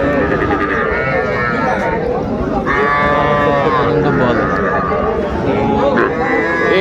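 Calves and cattle at a busy rural livestock market in Dinajpur, with drawn-out lowing calls rising over a dense crowd of overlapping voices, loud and constant.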